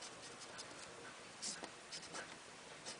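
A pen draws a diagram by hand on paper, with faint, close scratchy strokes and small taps in an irregular rhythm, quiet and without talk.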